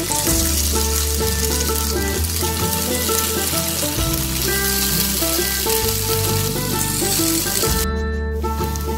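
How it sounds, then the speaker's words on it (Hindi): Tandoori momos frying in hot oil over a low flame, a steady dense sizzle with crackling bursts running throughout, close and loud with no voices. "ऑयल लिया है और ये अब अच्छे से गर्म हो चुका है। अब मैं इसमें डालूंगी मोमो"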